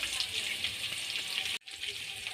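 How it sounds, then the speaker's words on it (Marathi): Green chilies and capsicum sautéing lightly in a pan for a vermicelli dish give a steady, close frying hiss, broken by a brief silent gap partway through before the sizzle resumes. "इथे मी हिरव्या मिरच्या टाकून घेत आहे इथे शिमला मिरची टाकून घेतलेली आहे"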